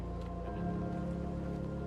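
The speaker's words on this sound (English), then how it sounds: "It sounds kind of rainy." Soft, steady rain patter in Fallout 4, a faint, continuous hiss of drops on surfaces with a low hum beneath, no talking.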